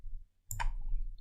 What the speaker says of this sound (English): press Ctrl Shift Q from my laptop